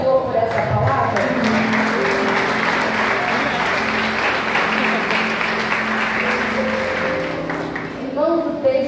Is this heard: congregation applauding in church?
yes